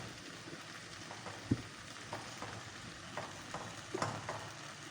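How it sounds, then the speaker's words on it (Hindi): Okra fries in a pan with tomato masala, a soft steady sizzle with occasional light stirring scrapes and small pops, fairly quiet and close, with no talking. "टमाटर डाल के मसाला भून के अभी भिंडियाँ डाल दें।"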